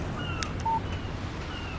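Alan Wake video game phone text-message alert, a single short electronic beep tone, quiet and clean over faint background ambience.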